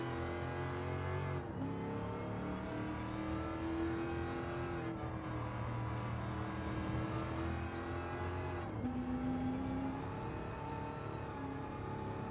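An Abarth race car engine in the Gran Turismo 7 racing game revs hard and continuously, climbing through the gears with brief dips at each upshift, loud and steady throughout.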